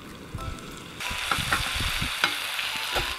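Small onions, curry leaves, dried red chillies and ginger garlic paste dropped into hot oil after mustard seeds, crackling and sizzling steadily with a loud burst as ingredients hit the pan, close and without talk.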